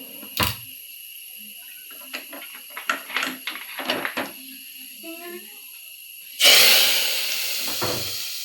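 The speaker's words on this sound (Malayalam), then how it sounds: "നമ്മുടെ സാമ്പാർ താളിച്ചൊഴിച്ചു കേട്ടോ." Hot tempering is poured into a pot of sambar and bursts into a loud, sudden sizzle that hisses on and slowly fades. Quieter clatter and a voice come first.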